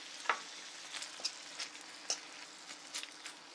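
Turkey and lardons frying in an oiled wok, a soft steady sizzle with scattered pops and spits, close and fairly quiet, no talking.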